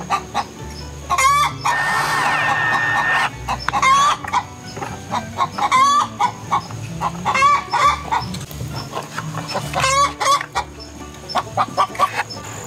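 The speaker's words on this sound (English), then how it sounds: "I don't think the chickens like me being in here with them." Chickens cluck and squawk in a coop, loud and close, with repeated agitated bursts and a rooster crowing, over a low background hum.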